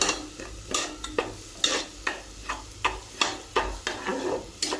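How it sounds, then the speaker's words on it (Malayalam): A spoon stirs and scrapes in a pan while ingredients for Ambalapuzha-style paal payasam are roasted, producing about a dozen quiet, regular scraping strokes over a soft, low sizzle, with no talk. "ഇങ്ങനെ വറുത്തിട്ട് നമുക്ക് ആ ഒരു ക്രിസ്റ്റൽ ആയിട്ട് വരുന്നത് ഒന്ന് വറുത്തെടുക്കാം"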